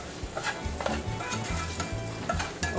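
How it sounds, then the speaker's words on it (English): Ground beef and onion sauté in olive oil in a pan for lasagna, giving a steady sizzle broken by rhythmic scraping and stirring strokes close by, with no talking. "I'm gonna saute that a little bit."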